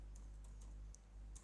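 Quiet keystrokes on a computer keyboard during a Power BI formula entry, a handful of light clicks spread over a second and a half against a low steady hum, with no talking.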